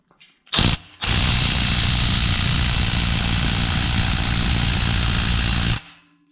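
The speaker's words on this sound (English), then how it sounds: "So I've got a deep socket installed on this right angle impact." A right angle impact wrench with a deep socket on a 15 mm starter bolt of a Jeep JK Pentastar gives a short burst, then a loud, steady buzzing hammer that runs for about five seconds and stops.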